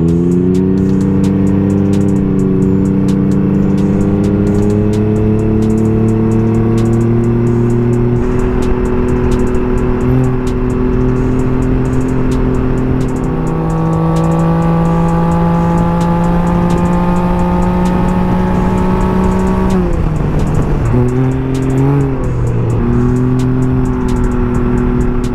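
A 2016 Can-Am Spyder RSS three-wheeled roadster engine revs high while riding, its pitch climbing through gears in steady pulls, with a shift and rev drop near the end, loud and close with constant wind rush.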